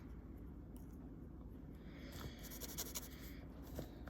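Broad-nib Lamy fountain pen writing with a reddish-brown ink, a soft continuous scratch of nib on paper, quiet and close with faint background hum.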